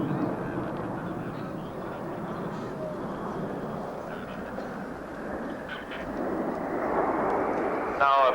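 Patrouille de France jets of the French Air Force roar past at the RAF Abingdon airshow in 1990, a broad sustained rumble swelling louder toward the end as the formation passes in front of the crowd.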